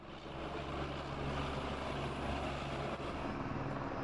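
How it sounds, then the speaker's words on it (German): A helicopter flies with a load hanging beneath it during German railway construction work. Its engine and rotor give a steady, fairly loud drone with a low rumble, continuous and without speech. "Mit einer am Hubschrauber hängenden Ladung dürfen keine im Betrieb befindlichen Bahnstrecken oder Bundes-, Land- oder Wasserstraßen überflogen werden."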